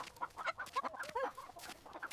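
A cartoon chicken clucks in a steady run of short, bright clucks that fill the whole stretch, fairly close and lively, with no talking.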